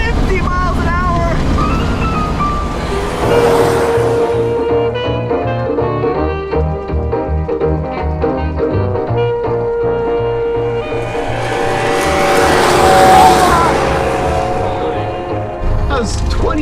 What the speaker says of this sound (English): Make it a little richer, get some more horsepower out of that 4-cylinder engine.